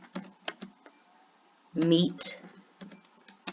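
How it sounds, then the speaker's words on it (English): Typing on a computer keyboard, with scattered crisp key clicks in short bursts close up, broken by a spoken word midway. "up here in the box I'm going to type in Google"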